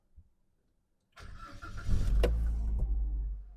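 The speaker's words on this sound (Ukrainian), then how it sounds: "Перевірка стану роботи двигуна." A 2012 Mitsubishi Lancer X with a 1.6 petrol engine starts up after a brief click, then settles into a steady, close idle hum.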